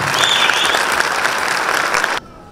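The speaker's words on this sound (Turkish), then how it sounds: "Ben sizi alkışlıyorum." Audience applause at a marriage school event, thick continuous clapping close and loud that cuts off abruptly near the end.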